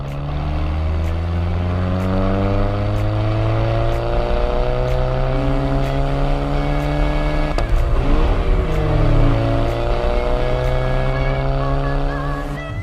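A VW GTI running a stage 2 map with an aftermarket exhaust revs hard through repeated climbing pulls, a loud, close engine note rising in pitch, with a brief sharp break partway through.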